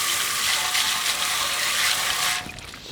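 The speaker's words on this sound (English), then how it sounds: "First step is to just rinse them off." Water from a hose rinses the grimy wheels of a BMW E46, a steady broadband gush that runs loud and continuous before dropping abruptly to a quieter trickle near the end.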